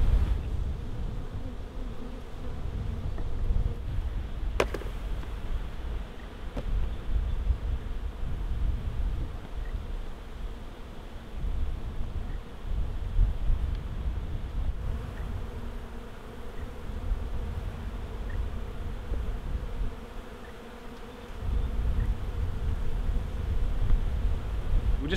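A wild honey bee swarm buzzing steadily and densely throughout, a close, continuous insect drone with no talking.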